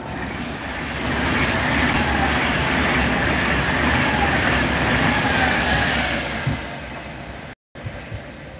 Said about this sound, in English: Yes, that's the next Transpennine Express. Here it is.